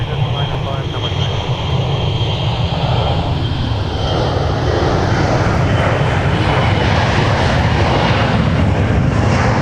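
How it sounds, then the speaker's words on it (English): A Delta Airbus A321 takes off at MSP airport, a loud, continuous roar of jet engines that fills the whole stretch with a broad, steady rumble and hiss. "here goes Delta 2145 to San Diego, A321"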